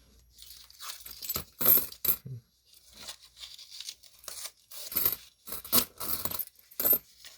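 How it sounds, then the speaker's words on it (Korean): Coins spill from an opened paper coin roll of old Korean coins, bursts of bright metallic clinks and jingles coming in uneven clusters, close and loud, with quiet pauses between handfuls. "2005년 동전 나옵니다."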